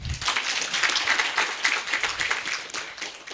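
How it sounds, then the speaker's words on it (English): An audience bursts into a big round of applause, dense and steady clapping from many hands that fills the whole stretch at moderate loudness with no voices over it. "Give me a big round of applause."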